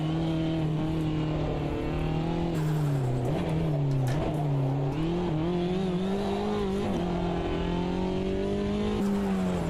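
Race car engine in the Automobilista 2 racing game, a loud continuous drone with pitch rising and falling as the gears change, including an abrupt downshift into first, with faint tyre squeal throughout.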